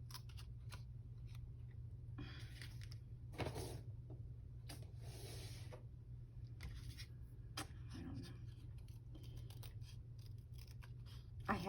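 Dull, worn craft scissors cut paper in repeated short snips with dragging blade strokes at irregular intervals. A faint steady hum runs underneath.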